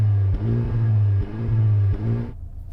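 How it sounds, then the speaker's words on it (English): A Honda Civic Type R engine revs up in three repeated bursts, each rising and falling against a steady low rumble, close and loud, then cutting off abruptly near the end. "Go on, rev up the Civic."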